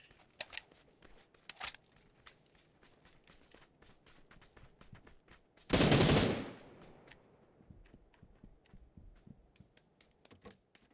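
A single loud, close gunshot in the Xbox battle royale game PUBG rings out as a sharp broadband blast with a brief decaying tail, set among faint, scattered clicking ticks and a quiet background with no talking.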